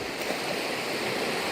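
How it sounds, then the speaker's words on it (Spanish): Sea waves washing onto a beach, a continuous soft hiss of surf rolling in and receding, steady and even with no voices. "Las olas suben, van creciendo y otra ola"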